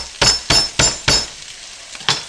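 Sausage and onions frying in a pan, with five separate bursts of sizzle and stirring scrapes at a steady rhythm, close and moderately loud over a low background hiss.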